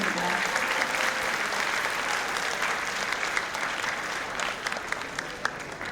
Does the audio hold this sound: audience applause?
yes